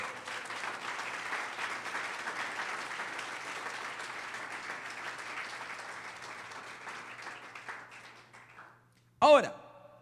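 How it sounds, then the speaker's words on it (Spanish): A church congregation applauds during a Spanish-language sermon, a broad, steady wash of clapping that fades out near the end, followed by a short sharp burst of another sound. "Dan un fuerte aplauso al Rey."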